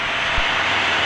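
Cessna Skyhawk light aircraft engine roaring steadily at full power during takeoff, a loud continuous drone heard from inside the cockpit with a single brief low thump.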